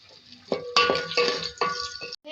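Cumin seeds fry with onion and red chillies in hot oil in a pan while a utensil scrapes and stirs, giving several close, distinct stirring strokes over a soft sizzle.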